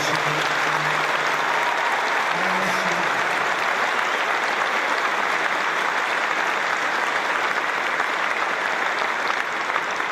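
Troops at Al Udeid Air Base in Doha applaud Qatar's armed forces with a dense, sustained round of clapping that holds at an even level for the whole stretch, with a faint voice early on.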